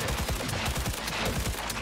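Rapid automatic gunfire in the video game Cyberpunk 2077, version 2.1, with dense, fast bursts of shots rattling continuously and loudly throughout.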